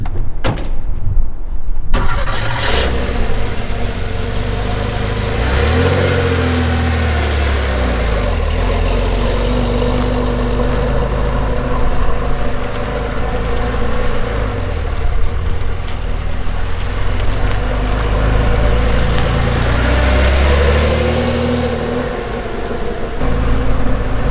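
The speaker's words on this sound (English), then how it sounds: "So we will drive around the car park, do a couple of loops, see how that works." A car driving slow loops around a car park, its engine a steady mid-level drone with a rising rev around the middle and a bump or door-like thud at the start, close and continuous with no talk.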